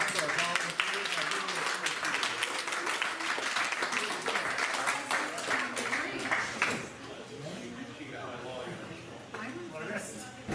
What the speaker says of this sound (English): Please, a round of applause for our volunteers